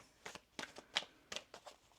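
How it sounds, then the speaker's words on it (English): Tarot cards are shuffled in a quiet series of short, crisp riffling bursts, about half a dozen spaced unevenly across two seconds. "One more shuffle here, please, and thank you."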